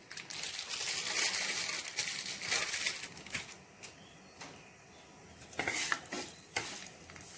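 Lentils fry in hot oil in a pan, giving a steady sizzle and crackle with scattered clinks and stirring scrapes, loudest at the start and again near the end, with no talk.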